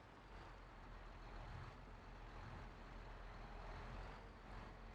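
A tractor in the video game Farming Simulator 22 drives along with a steady, continuous low engine rumble and broadband road noise, moderately quiet and unbroken, with no talking.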